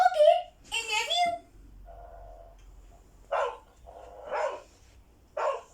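Recorded dog barks played from a phone sound app come in several short bursts, separated by quiet gaps, with people talking around them.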